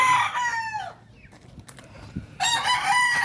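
Rooster crowing in two bursts at the start and end, loud and close, with a quieter gap between the calls.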